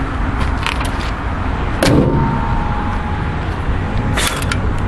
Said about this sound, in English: Let's close the hood.